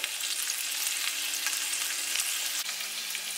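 Sausages sizzling in a frying pan for an omelette, a dense, even crackle of hot fat that holds steady and close throughout.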